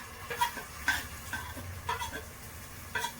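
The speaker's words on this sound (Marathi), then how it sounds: "आता आपण घेऊया मसाला भाजून याच्यात भावना तेलामध्ये." Masala roasting in hot oil for a spicy mutton and drumstick curry, with soft sizzling under a few brief scraping stirs of a spoon in the pan at a steady, moderate level.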